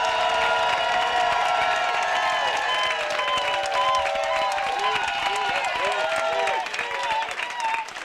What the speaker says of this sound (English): to please stand and give her a round of applause